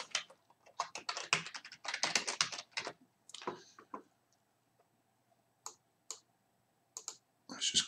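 Computer keyboard typing and mouse clicks while adding text to a photo print layout, with a burst of rapid keystrokes followed by a few sparse isolated clicks, close and fairly quiet.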